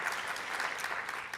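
A crowd claps steadily at a diversity recognition awards event, a continuous, fairly soft patter of many hands with no talking over it.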